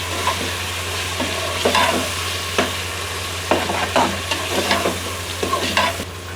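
Tomatoes and green chilies frying with meat for chana dal gosht, a steady sizzle broken by repeated stirring scrapes and clatters of a spoon against the pot, with a low hum beneath.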